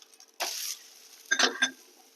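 Coriander and jowar thalipeeth flipped in a pan gives a brief hissing sizzle, then a couple of short scraping, clattering touches of a spatula against the pan, close and fairly quiet.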